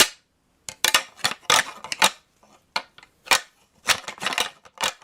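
Rattle bag imitating deer antlers clashing in a buck fight, with close, sharp clattering bursts in irregular clusters separated by brief silences, and no talking.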